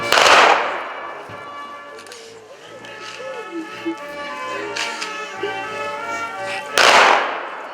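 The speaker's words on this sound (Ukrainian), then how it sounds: "Тут за традицією лунали прощальні постріли у повітря." Farewell gunshots are fired into the air at a soldiers' burial on a hillside, two loud sharp cracks at the start and end of the clip with someone speaking between them.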